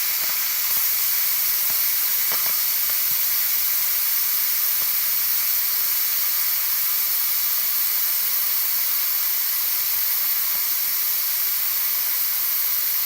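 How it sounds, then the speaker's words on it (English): Steam hisses steadily from an Instant Pot venting pressure while black bean soup cooks, a continuous, fairly loud, airy rush that holds without a break, with no talking. "I hear the pressure decreasing. The steam is not as intense."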